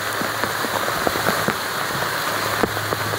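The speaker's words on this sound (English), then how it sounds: "it's raining like crazy" Heavy rain pours down steadily, a dense, even hiss of drops with scattered louder patters on nearby surfaces and a faint low hum underneath.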